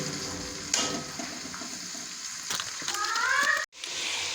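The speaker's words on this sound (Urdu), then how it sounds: "میں نے یہاں پہ لیا ہے 1 کپ کے قریب آئل، اس میں پیاز شامل کر دوں گی" Onions sizzling in about a cup of hot oil for biryani, a steady crackling hiss with a few brighter bursts, close and fairly loud, cutting out briefly near the end.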